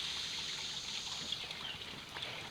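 Water trickles steadily in a garden fountain on a hot summer day, a soft, continuous close-up dribble with no breaks and no talking.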